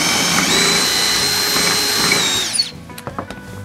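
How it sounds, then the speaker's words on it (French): A power drill with a depth stop bores a dowel hole in wood, whining loudly and steadily at close range for a few seconds before stopping, followed by light clatter. "j'ai plus qu'à attaquer le perçage"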